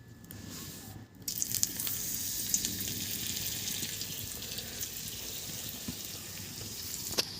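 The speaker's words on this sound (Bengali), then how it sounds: "এবার এগুলো তেলে দিতে হবে।" Potatoes frying in hot oil, a steady sizzling hiss that starts after a brief quiet moment and holds at an even level throughout, with no talking.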